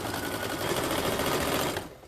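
A sewing machine stitches pillow fabric in a fast, steady close whirring run that slows and stops near the end, with no talking.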